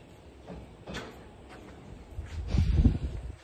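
A door is opened in a home in rural South Asia, with soft clicks and scrapes early on, then a louder low rumbling scrape and thud around the swing, close by and with no voices.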